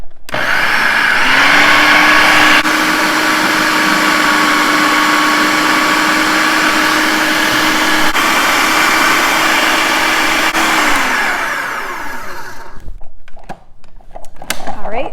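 A food processor whirs steadily and loudly while blending pesto as olive oil is drizzled in, holding a constant hum for about eleven seconds before winding down into quieter clatter.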